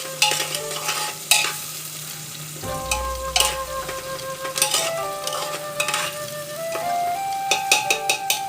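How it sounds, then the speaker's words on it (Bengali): Chopped onions sizzle steadily in a pan while being stirred, with scraping and clinking utensil taps breaking through the continuous frying hiss and faint tonal background sounds; no one speaks. "পেঁয়াজটা একটু ভাজা হোক।"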